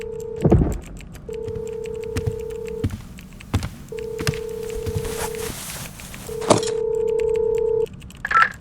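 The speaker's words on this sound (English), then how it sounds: "I'm calling him right now to explain it." A telephone number is keyed in, each press giving a short electronic tone in a steady sequence of about ten beeps, fairly quiet and close, with faint handling and room noise between them and no talking.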